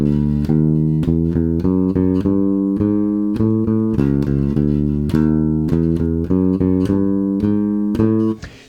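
A bass line is played slowly in steady, evenly spaced notes with doubled repeated notes, clear and upfront throughout. The final note rings out and fades, and no one speaks.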